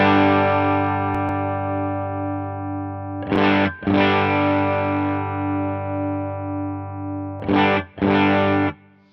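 An electric guitar runs through an HX Stomp amp model with sag engaged, producing sustained, distorted chords that ring out under heavy effects. Two short, sharper re-struck bursts occur midway and near the end.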